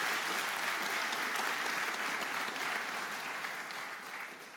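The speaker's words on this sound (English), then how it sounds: "Give them an applause." Steady audience applause at the MARCH II exoskeleton reveal presentation, dense clapping that holds level and then slowly fades toward the end, no talking.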